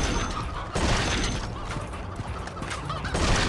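Chickens in the mobile shooter Dead Trigger 2 make sputtering, clucking fowl calls over a noisy game soundscape. The calls come in dense overlapping bursts, with mechanical clatter mixed in.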